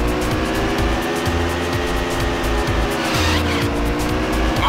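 A light cycle racing in Tron Evolution, the PSP game: a steady, loud, buzzing engine drone with rising and falling pitch as it accelerates and swerves, continuous throughout.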